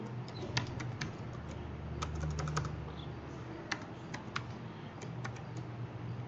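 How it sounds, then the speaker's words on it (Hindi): Someone types a C++ program on a computer keyboard: a run of quick, uneven key clicks, close and fairly soft, with small pauses between bursts and no talking. "अब सबसे पहले मैं यहाँ पे एक प्रोग्राम जो है वो टाइप करता हूँ"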